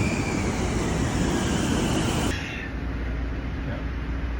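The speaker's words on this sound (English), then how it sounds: "This is my train" A Long Island commuter train runs toward Manhattan with a steady, loud broadband rumble and rail roar that drops to a quieter, duller hum halfway through, as if passing into a tunnel or changing surroundings.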